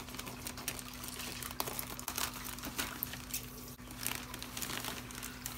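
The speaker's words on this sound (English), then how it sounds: "we're gonna go and cut this off the top of the bag" Scissors snip and crinkle through the plastic bag holding live saltwater fish shipped in a cardboard box, giving faint, close crackling and rustling with small clicks and a low steady hum underneath.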